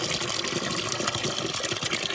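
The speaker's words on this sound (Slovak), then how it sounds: "No takto zvyknem naberať vodu" Water is scooped from a forest spring, with close, continuous splashing and gurgling flow and faint rhythmic sloshing as the container fills.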